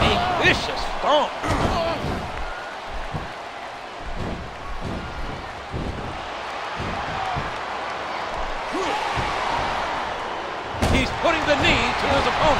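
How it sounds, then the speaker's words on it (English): Heavy body thumps and slams land in a WWE SmackDown vs Raw 2009 wrestling match, a series of irregular impacts with one big hit near the end, over a low arena crowd and commentary voices. "And he strikes with the elbow. A vicious thump."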